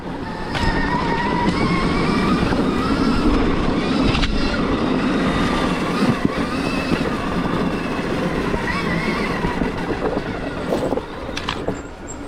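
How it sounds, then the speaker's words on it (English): A Stark Varg electric motorcycle's cooling fan runs after the bike is revved on a singletrack trail, giving a loud, steady whirring rush with a faint tonal whine throughout. "So I can hear the fan kicking on after I like rev it out"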